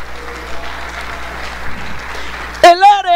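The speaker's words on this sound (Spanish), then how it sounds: "dele ese aplauso a la gloria del Señor" Congregation applause at an evangelical church service, a dense wash of clapping under a steady hum, giving way near the end to a loud sung or spoken voice.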